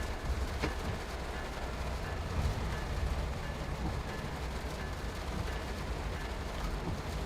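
Steady rumbling train cab ambience from a locomotive in Train Sim World 3, a continuous low drone with faint mechanical rattles, constant in level throughout with no speech.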